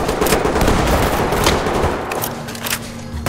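Heavy automatic gunfire in the tactical shooter game Ready or Not, dense overlapping bursts of shots rattling loudly and continuously, with scattered sharper cracks near the end.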